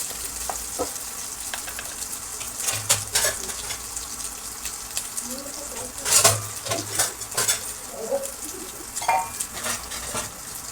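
Soya chunks and potato mixture fry in a pan with a steady crackling sizzle, punctuated by repeated scraping and clanking of a spatula against the pan as it is stirred, close up and without speech.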